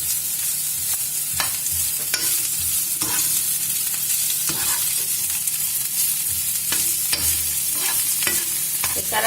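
Vegetarian gluten steak browning in a frying pan, a loud continuous sizzle broken by repeated scraping and stirring clicks, with no speech.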